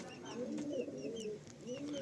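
Older-generation pigeons kept for sale coo softly in repeated rolling phrases, with faint chirps and rustling around them, close but quiet.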